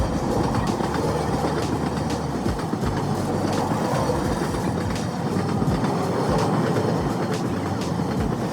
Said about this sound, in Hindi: गांधीनगर से निकली हुई योगा एक्सप्रेस जो कि ऋषिकेश की तरफ आगे बढ़ रही है, उस ट्रेन ने हमारा रास्ता यहाँ पे रोक दिया था